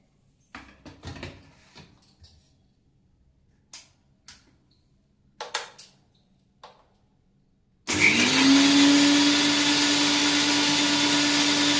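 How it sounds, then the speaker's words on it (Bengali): A kitchen mixer grinder (mixie) grinding spices starts abruptly after some scattered handling knocks and clicks, then runs as a loud, steady whining motor roar that continues to the end. "এটা একটু আমি মিক্সিতে একটু গুঁড়ো করে নিই"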